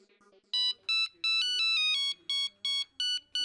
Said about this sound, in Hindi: अरे रिंग जा रही है, फोन ही नहीं उठा रही है।